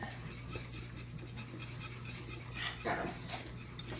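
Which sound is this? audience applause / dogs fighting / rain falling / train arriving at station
dogs fighting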